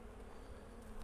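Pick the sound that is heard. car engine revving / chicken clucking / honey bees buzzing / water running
honey bees buzzing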